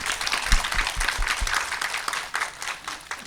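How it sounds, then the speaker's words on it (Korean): An audience breaks into applause at a talk event, a dense patter of many hands clapping steadily at moderate volume, tapering slightly toward the end. "이 자리까지 오신 대표님께 박수로 한번"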